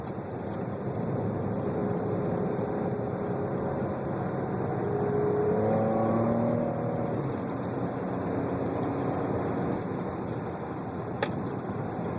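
A race car laps Infineon Raceway, cresting a hill into turn six with a constant, steady engine drone heard from inside the car, holding an even level throughout.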